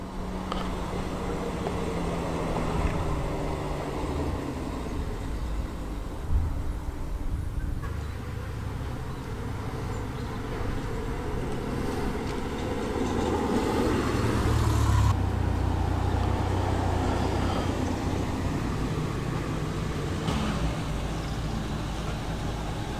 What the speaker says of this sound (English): Got a TR6 rumbling in now on this wonderful autumnal day.